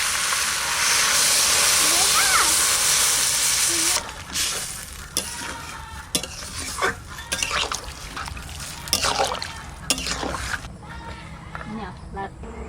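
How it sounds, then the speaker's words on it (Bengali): Water hits a hot pan of sautéed snakehead fish curry with a loud, steady steaming hiss for about four seconds. It then gives way to quieter sizzling and clatter while a person talks. "জল দিয়ে দিচ্ছি। ভালো করে কষানো হয়ে গেছে।"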